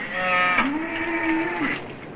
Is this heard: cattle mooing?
yes